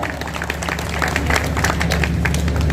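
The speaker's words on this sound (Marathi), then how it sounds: "एकदम टाळ्या झाल्या पाहिजेत, जोरदार टाळ्या." An audience at a political debate-show gathering in Virar claps together. The applause is dense, steady and fairly loud throughout, with no speech over it.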